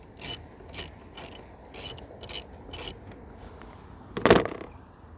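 A 13mm socket on a ratchet loosening the battery bolt on a Ford Ranger T6: six quick, evenly spaced clicking bursts, close and crisp, then one louder clunk near the end.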